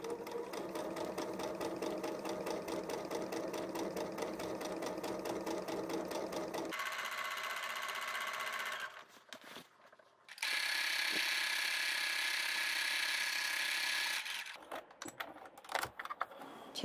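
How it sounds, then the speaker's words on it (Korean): A sewing machine stitches along the top edge of an apron skirt with a long stitch, running in steady bursts with a brief pause partway through and no talking. "그리고 치마 윗부분을 5mm 간격으로 재봉해 줄 거예요."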